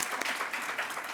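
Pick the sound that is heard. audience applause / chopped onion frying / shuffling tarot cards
audience applause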